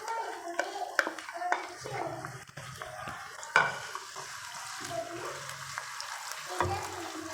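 Onions sizzle and fry in hot oil in a kadai, a steady close crackle broken by scraping stirs and metallic utensil clinks against the pan.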